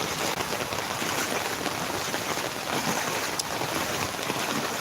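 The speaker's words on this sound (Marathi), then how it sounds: "खूप जोराचा पाऊस आहे" A dense, steady hiss of heavy rain in Sanpada, Navi Mumbai, pours without pause, loud and close, with no voices.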